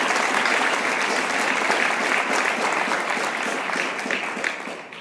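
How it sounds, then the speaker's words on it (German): Audience applause fills the hall at the opening of the Saalfelden festival, a dense, steady wash of clapping from many hands that holds strong and then tapers slightly near the end. "Saalfelden hat sich wirklich diesen Applaus verdient"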